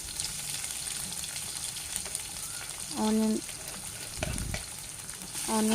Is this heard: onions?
yes